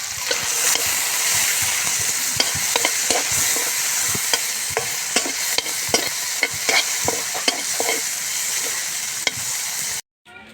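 Garlic and onion sautéing in hot oil for a tomato-braised dried milkfish dish, a loud continuous sizzle with frequent spatula clicks and scrapes that cuts off abruptly near the end.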